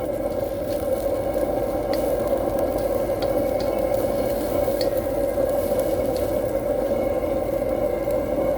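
Vegetables sizzling in a pan while roast pork wide wheat noodles cook, a steady, even hiss with faint scrapes and soft ticks scattered over it.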